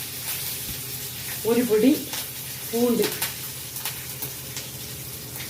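Spices and mustard seeds frying in hot oil for a Tamil eggplant kuzhambu (ennai kathirikkai), giving a steady, soft sizzle beneath a voice.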